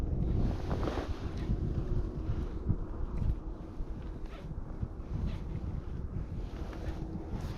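Wind buffets a kayak out fishing on open water, a constant rough rush of gusts across the microphone with low water noise beneath, and no voices.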